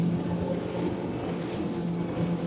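A Highfield 560 Sport boat with a Yamaha outboard motors through choppy water at speed, a steady low engine drone mixed with wind and hull rumble, fairly faint and continuous.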